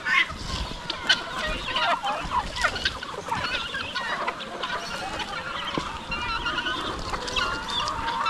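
Chickens and turkeys on a rural farm cluck and gobble in a busy, continuous chorus of overlapping calls at close to moderate distance, steady throughout with no talking.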